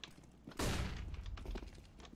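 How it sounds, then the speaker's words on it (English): A flashbang grenade goes off in a tactical shooter video game, one sudden loud blast with a long rumbling, crackling decay that trails off over about a second and a half. "Deploying flashbang."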